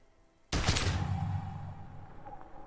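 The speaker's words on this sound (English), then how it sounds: "A plume of smoke and fire erupts from the gun, and your hand goes numb from the explosion." Gunfire blast in the video game Disco Elysium: a sudden loud, close shot erupting at once, followed by a long rumbling decay that slowly fades over a couple of seconds.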